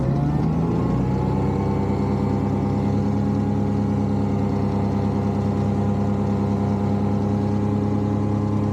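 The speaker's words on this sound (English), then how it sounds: "As soon as the screen changes, hit the starter. There it goes." A self-launch glider's engine cranks and catches within the first second, then settles into a loud, steady, droning run with strong even harmonics that holds unchanged to the end.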